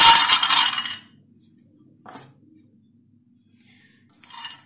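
Almonds tipped into a metal pan for a homemade health drink make a close, rattling clatter at the start, then a short knock and a final brief clink with quiet in between.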